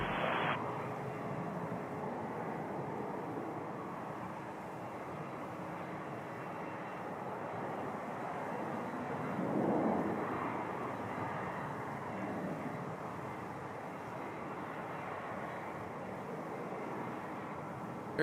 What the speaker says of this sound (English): Here comes an A220 from Ottawa, Air Canada